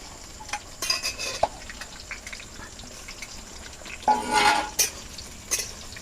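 Four medium onions frying in oil while being stirred, with sizzling under intermittent scraping and clinks of a spoon against the pan, louder bursts of activity coming in short spells, close with no talk.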